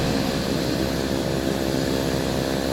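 Left engine of a Beechcraft Turbine Duke starting up in Microsoft Flight Simulator 2024, a steady, loud turboprop roar and whine that holds evenly throughout with no voices.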